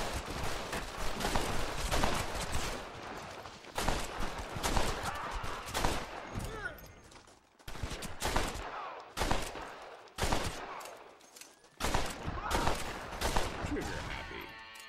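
Dense gunfire rattles through a multiplayer standoff shootout in Red Dead Redemption in the town of Armadillo, with loud overlapping shots and rapid bursts that stay nearly continuous with only brief lulls.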